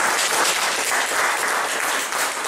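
A church congregation breaks into loud, dense applause, a steady wash of clapping that holds throughout without voices on top.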